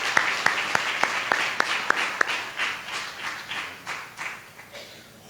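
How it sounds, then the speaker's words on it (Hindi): A church congregation claps to welcome a speaker. A few sharp, evenly spaced single claps come first, then they blend into broader, softer applause that fades toward the end. "ताली बजा करके इसको स्वागत करेंगे।"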